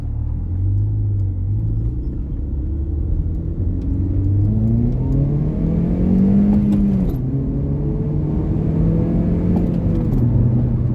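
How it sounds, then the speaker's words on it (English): 2008 Honda Civic LX with a manual gearbox pulling away from a stop, its engine rumbling loud and close as revs climb steadily, ease off briefly around a shift, then build again, with no talk. "Clutch in, put in gear, and take off."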